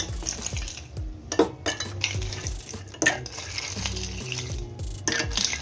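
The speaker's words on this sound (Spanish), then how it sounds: "Vamos a echar el hielo." Ice cubes clatter into a container of orange juice for a morir soñando drink, a close, busy run of clinks, knocks and rattles with no talking.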